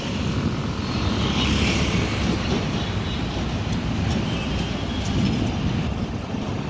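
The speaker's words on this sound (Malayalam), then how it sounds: "അപ്പോൾ ഫൈനലി നമ്മുടെ വണ്ടി വരുന്നുണ്ട് കേട്ടോ ലോഡ് ആയിട്ട് കൽക്കരിയെല്ലാം ആയിട്ട്" A loaded coal truck on a trip to Bellari approaches with a loud, steady engine rumble that stays level throughout, with no voices.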